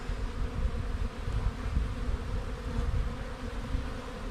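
Dense, steady buzzing of many honey bees in an open hive during inspection fills the air up close, a low droning hum that never lets up.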